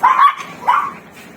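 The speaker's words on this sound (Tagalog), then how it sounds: "Ayan yung lahat ng aking aso dito." Two sharp barks from a dog at a home kept with several dogs, including corgis, ring out close and loud, the second following about half a second after the first, then fade out.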